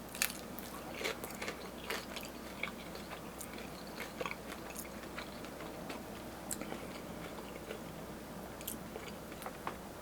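Crunchy fried dumpling being bitten and chewed at a Korean fried chicken restaurant, with a steady stream of small crackling crunches close to the mouth and no talking.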